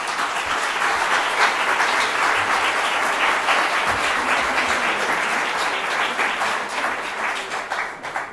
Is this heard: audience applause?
yes